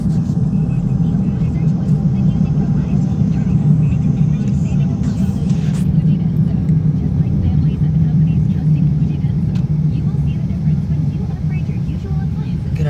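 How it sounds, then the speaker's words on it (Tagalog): Continuous low rumble of road traffic, a heavy engine drone holding steady and loud throughout with faint higher clatter on top. "Grabe, traffic."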